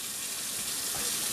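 Water pours steadily into a pot as 7.5 cups go in for canning lemon cucumbers, a loud, continuous rushing gush at close range with no talking.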